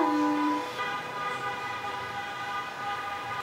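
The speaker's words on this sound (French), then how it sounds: "Les klaxons là." Car horns honking outside, heard through a wide-open window, sustained overlapping blares that hold steady for a few seconds against a background of street noise.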